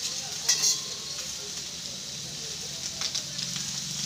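Fish roe bursting in hot oil in a pan while fish fries, a steady close sizzle with a few sharp pops and crackles scattered through it.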